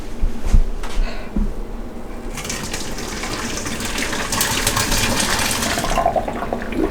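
Boiling water from a pot of macaroni gushes and splashes as it drains into a sink, a steady rushing pour that starts a couple of seconds in and runs continuously.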